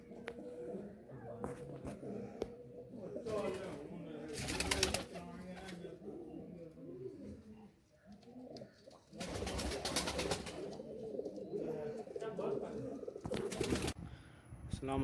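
Large pigeons cooing close by, soft repeated low coos running through the clip alongside louder bursts of noise, with someone talking at times.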